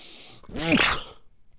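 A single loud, close sneeze, with a quick indrawn breath and then a sharp burst lasting about half a second, in a quiet indoor room.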